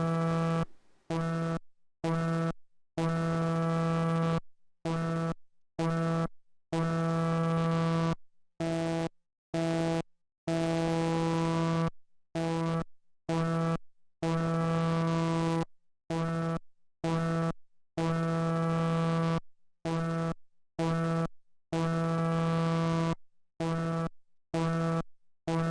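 A heavy, detuned bass synth from the Albino 3 plugin, shaped by a mod envelope, plays a long run of repeated sustained notes, each retriggering the same evolving sweep. It is loud and rhythmic, with short silent gaps between notes and no talk.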